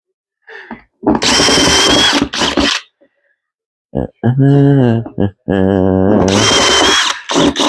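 A power drill whines in several bursts into a plastic tub, its motor pitch rising and falling as it bites into the material, with brief pauses between runs.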